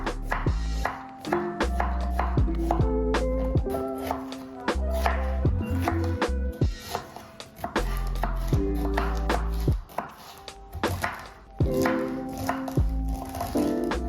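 Rapid knife chopping on a cutting board, steady rhythmic taps with short pauses, close and clear, with no talking.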